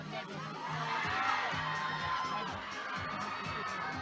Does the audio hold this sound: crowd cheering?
yes